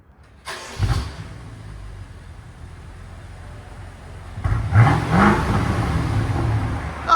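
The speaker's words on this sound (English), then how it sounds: "2014 650i V8 twin turbo." A stock 2014 BMW 650i with its 4.4L twin-turbo V8 fires up and then revs, a deep throaty burst at the start followed by a steady idle and a second, stronger rising rev near the end.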